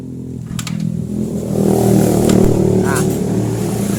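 A Yamaha motorcycle, such as a Mio, Jupiter Z, Vega ZR or R New, is kick-started by hand, with a clattering kick followed by a loud, steady idling engine drone heard close by, while people talk over it.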